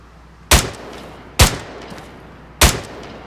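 Gunfire in the combat video game Arma 3: three sharp, loud single shots spaced about a second apart, each cracking over faint background ambience.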